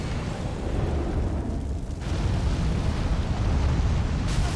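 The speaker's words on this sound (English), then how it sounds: "He breathes fire." A dragon in Elden Ring, in Dragonbarrow, breathes fire as a loud, continuous roaring blast that swells and surges for several seconds with no talking over it.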